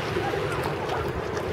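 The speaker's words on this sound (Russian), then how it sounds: "Такие вот волны, даже сами увидите." Steady wind and surf on a cold, blustery shore with murky water, a broad continuous roar of waves and gusts buffeting the microphone, loud and close throughout with no talking.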